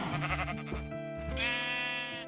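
Minecraft sheep bleat in two close, nasal, wavering calls, loud and near, with no talking.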